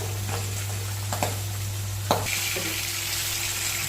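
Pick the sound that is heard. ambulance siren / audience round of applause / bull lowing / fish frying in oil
fish frying in oil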